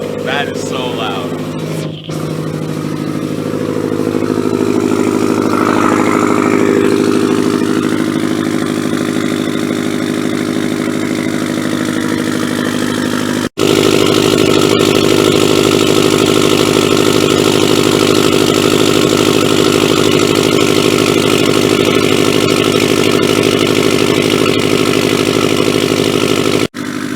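A 2013 Subaru STI engine with a catless downpipe exhaust runs loud and steady, revving with a rising and falling tone before settling into a sustained, harsh roar. It sounds close and fills the whole clip, with voices heard over it.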